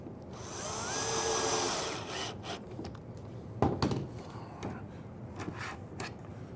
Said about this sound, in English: We're going to go ahead and put 2 screws in the slide.